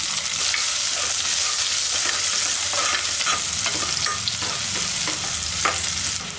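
Small shallots and green chillies sautéing in hot oil for village-style goat head curry, a loud continuous sizzle close up with repeated stirring scrapes and clanks.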